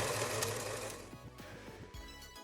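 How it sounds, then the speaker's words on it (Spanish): An Alfa 520 sewing machine, restored and modified with a voltage regulator, runs steadily with a loud continuous mechanical whir and rapid needle clatter, alone, easing slightly in speed toward the end. "Y de esta forma la máquina de coser queda operativa y funcionando"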